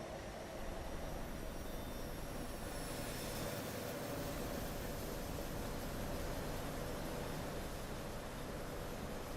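A Chinook helicopter in the video game Microsoft Flight Simulator 2024 gives a steady, even engine and rotor roar, faint and unchanging throughout with no speech.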